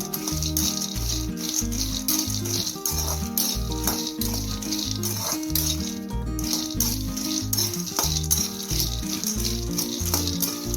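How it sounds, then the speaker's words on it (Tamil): Peanuts dry-roast in an iron kadai on the stove, giving a dense, continuous rattle and crackle as they are stirred, with rhythmic scraping strokes, close up and without talk. "அடுப்பில் ஒரு வடைச்சட்டியை வச்சுட்டு வேர்க்கடலை அதில் போடுறேன்."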